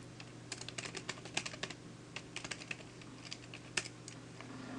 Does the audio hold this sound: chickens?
no